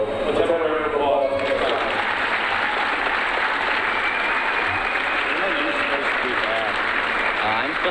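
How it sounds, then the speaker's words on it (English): An audience at a high school wrestling event claps in a steady, sustained roar of applause, mixed with cheering voices and talk throughout. "let's have a round of applause"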